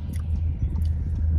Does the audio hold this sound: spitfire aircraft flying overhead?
no